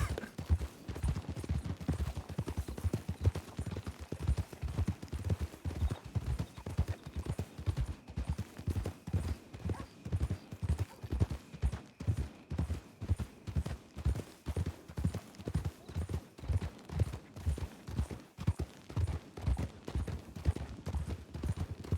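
Horse hooves clip-clop in a steady, even rhythm throughout, a long run of evenly spaced hoofbeats close by, in the video game WildRP.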